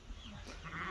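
Bleating comes from sheep kept on a goat farm, a single short faint call rising over quiet background noise.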